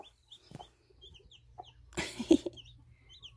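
Araucana and Korean native hens with newly hatched chicks in an indoor hatching setup: soft clucks and a few faint chick peeps, close and sparse, with one louder burst of clucking midway.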